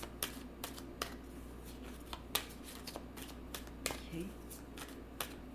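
Oracle and tarot cards are shuffled by hand in sharp, irregular riffling clicks spread over several seconds, close and fairly soft, with a brief quiet voice in the middle.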